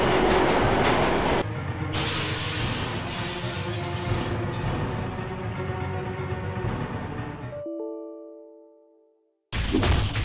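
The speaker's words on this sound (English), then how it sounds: "I must stop this train!" A train in the video game Postal rumbles along loudly and steadily with clattering, screechy wheel noise, then fades out, followed by a few short tones and a sudden loud return.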